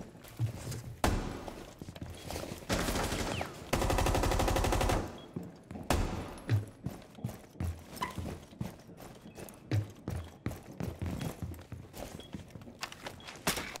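Gunfire in Rainbow Six Siege: a sharp shot, then a sustained automatic burst lasting about a second, followed by scattered footsteps and quieter impacts, all fairly close and loud.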